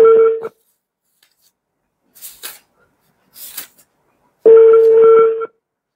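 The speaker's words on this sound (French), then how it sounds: "Mais ça sonne, il ne décroche pas." A telephone call rings out with long, loud tones at the start and end, separated by silence and a few short faint noises, with no one answering.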